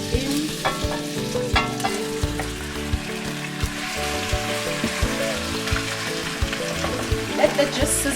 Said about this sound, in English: Let that just sizzle like that.